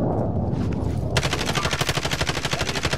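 Rapid automatic gunfire in Call of Duty Warzone, a fast, evenly spaced stream of loud close shots taking over from a rumbling mix of game sounds.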